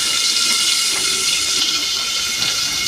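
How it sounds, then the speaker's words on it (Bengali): Fish curry gravy for a raw-mango rohu dish bubbles steadily in a pan, a continuous close hiss and simmer with no voices. "ঝোলটা ফুটুক"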